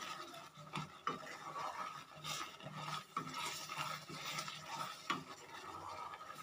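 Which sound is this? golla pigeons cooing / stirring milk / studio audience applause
stirring milk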